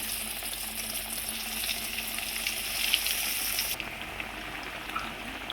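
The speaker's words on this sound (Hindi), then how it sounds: "अब हम अपने कबाब को फ्राई करेंगे।" Kebabs frying in hot ghee over a high flame, a steady bright hiss and sizzle that runs continuously and then drops noticeably softer partway through.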